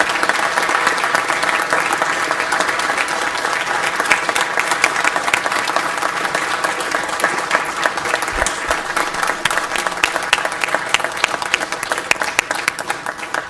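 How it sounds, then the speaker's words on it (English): Sustained crowd applause at a City of Fairfield ceremony, a dense and steady roar of many hands clapping that holds loud for the whole stretch, with no talk over it. "Let's give yourselves a round of applause."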